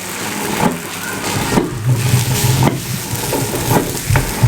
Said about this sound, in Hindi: चूल्हे के शोर की माजरत, की प्रॉब्लम आई हुई है